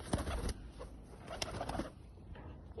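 Miro breed pigeons cooing in a loft, soft low throaty coos close by with a few sharp knocks and flutter-like bursts, no talking.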